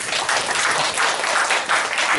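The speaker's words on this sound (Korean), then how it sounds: "박수 한번 좀 부탁드리겠습니다." Steady applause from an audience at a provincial citizen jury preliminary meeting at the Gyeongbuk provincial office, dense continuous clapping with no talk over it.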